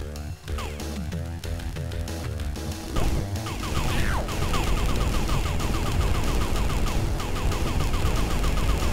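Missiles fired rapidly in the retro PC game Jazz Jackrabbit, a busy stream of repeated crashing blasts and zips over game music, loud and continuous throughout.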